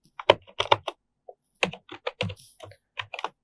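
Fingers tap out code on a computer keyboard in short clustered bursts of crisp, close keystrokes with small pauses between runs, quiet and without talk.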